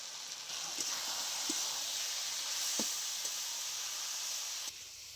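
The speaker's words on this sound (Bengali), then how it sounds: "সবকিছু মশলা দিয়ে বেশ কিছুক্ষণ কষিয়ে নেব" Spices (turmeric, coriander and cumin powder) frying with mixed vegetables in a pan give a steady, close sizzle and hiss, broken by a few faint clicks of stirring.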